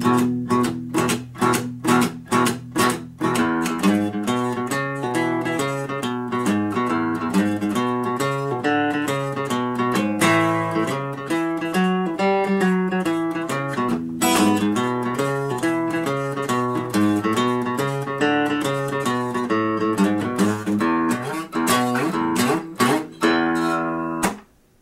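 An acoustic guitar plays the opening twelve bars of the boogie tune slowly, with plucked bass notes, repeated rhythmic strums and open-string upbeats, heard alone and up close with no talking.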